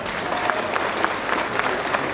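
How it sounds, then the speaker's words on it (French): A rally audience applauds French comrades, a dense, steady wash of many hands clapping that fills the space evenly and carries on throughout with no voices standing out. "je propose d'applaudir tous nos camarades français qui luttent aussi aujourd'hui"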